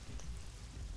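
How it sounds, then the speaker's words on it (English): Steady rain falling in a frozen frontier video game, a continuous dense hiss with low rumble underneath, no voices. "Yeah, it's been raining for 2 days."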